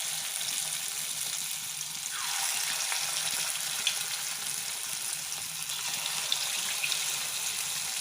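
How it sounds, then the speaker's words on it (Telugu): Idli batter fritters (punugulu) dropped into hot oil in a pan, giving a steady, broad hiss of frying that swells a little partway through and holds at an even level, with a few faint pops and no voices. "ఆయిల్ హీట్ ఎక్కుతుంది ఇప్పుడు మనం బజ్జీలు అనేది వేద్దాము"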